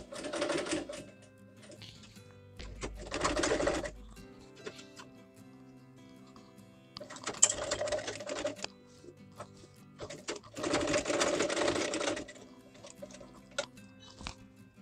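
Sewing machine stitching a zip onto a dress, running in four bursts of steady rapid whirring with quiet pauses between them.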